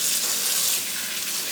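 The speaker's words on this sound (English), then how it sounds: "I'm just going to fill the sink up with water and kind of agitate them" A kitchen sink fills with running tap water ahead of rinsing kale, mustard greens and collards, a steady bright hiss and gush of water that holds constant and close with no speech.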